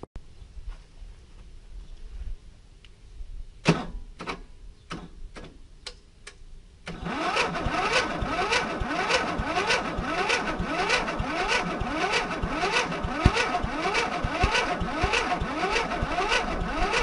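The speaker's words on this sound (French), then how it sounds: "on va enfin tester le démarrage" A Stiga Villa ride-on mower's engine cranks with a few sharp starter clicks, then catches and settles into a steady, loud mechanical run that continues to the end.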